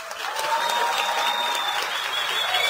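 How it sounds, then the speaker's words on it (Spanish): A seated audience at a talk gives sustained, even applause, many hands clapping close together at a steady level for the whole stretch, with no speech on top. "Un aplauso, por favor"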